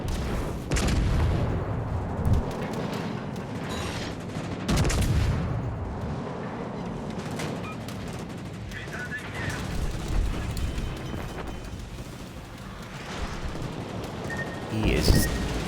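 Battleship secondary guns in World of Warships Legends fire in repeated bursts of booming shots over a constant rumble of naval combat, loud and close, with talk at times.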